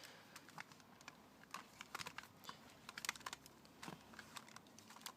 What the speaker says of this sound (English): It still makes the clicking noise